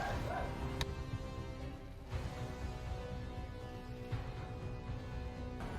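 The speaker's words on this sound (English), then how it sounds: "My dog's barking on outside" A pet dog barks from another room, several muffled, distant woofs and yips heard faintly through walls over a steady background hum, with no talking.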